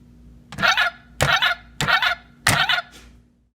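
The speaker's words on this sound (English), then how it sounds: "the Pac-Man pawn is battery operated and creates the original Pac-Man sound as the player moves around the board" A battery-operated Pac-Man board game pawn plays the original Pac-Man chomping sound: four evenly spaced, bright, buzzy electronic bursts, close and clear against near silence.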